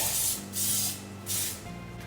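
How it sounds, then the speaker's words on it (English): Cooking spray hisses into a fluted cake tin in three short, close bursts separated by brief pauses. "we're just going to spray it with some cooking spray"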